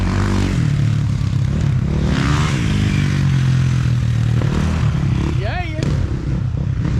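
Dirt bikes and quads rev and ride around an abandoned terracotta brick factory, their engines droning and rising in pitch at a distance while people talk over them nearby.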